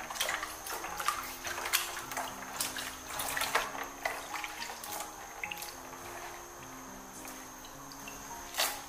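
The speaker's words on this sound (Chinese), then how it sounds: "用清水多给它清洗两遍，直到洗至水清澈" Red dates are rinsed by hand in a basin of water, with repeated splashes, sloshes and trickles in an irregular rhythm, close and fairly quiet, no speech.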